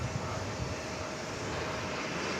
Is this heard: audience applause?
no